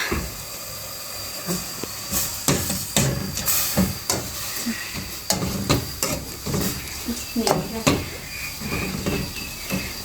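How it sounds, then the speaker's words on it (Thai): Small birds dry-roasting in a pan in a rural Thai kitchen, a constant hiss with repeated scraping strokes of stirring, close and fairly loud, while a person speaks intermittently. "คั่วนกให้ซุกก่อน"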